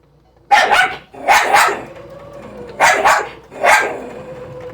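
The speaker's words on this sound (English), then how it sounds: "And my dog has decided she's going to talk." A pet dog barking indoors in a home sewing room, giving four loud, close barks in two quick pairs separated by a short pause, with no talking.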